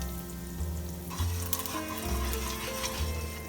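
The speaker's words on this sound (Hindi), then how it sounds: "जीरा थोड़ा फ्राई होने देते" Cumin seeds and asafoetida frying in olive oil over medium-high heat, a steady bright crackling sizzle that runs continuously with a faint low hum beneath it, close and clear with no talking.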